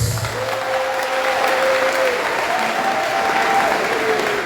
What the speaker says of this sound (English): As you are sitting down, clap for Jesus.